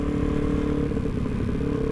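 A Suzuki DRZ400SM motorcycle rides along a road in Japan, its engine a steady, close, loud drone with wind noise and faint clattering throughout.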